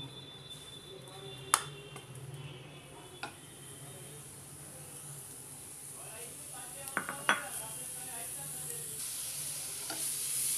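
Beetroot stirred in hot ghee in a saucepan, a low steady sizzle running throughout with a few sharp clinks of a spoon against the pan and scattered scraping stirs, close by with no talk.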